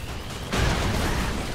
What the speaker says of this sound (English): There's too many explosions for one bro.